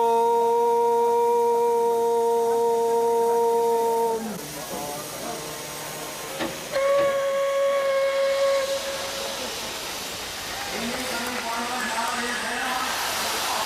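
Steam locomotive on Indian Railways sounding loud, sustained multi-tone whistle blasts, first a long blast, then a shorter one after a pause, over steady hissing steam, with a third whistle starting near the end.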